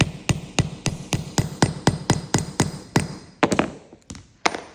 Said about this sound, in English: Hold it firmly and hammer.